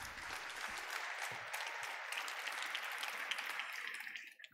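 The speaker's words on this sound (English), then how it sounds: "please give him a big round of applause" A crowd claps steadily for several seconds, a dense patter of many hands that fades out near the end.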